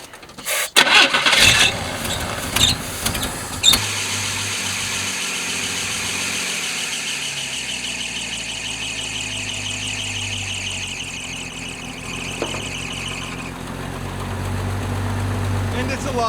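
An old Chevy squarebody pickup, a '78 or '80 short bed, cranks with a few rough bursts and a squeal, catches, then settles into a steady loud idle that swells slightly near the end, with talking early on.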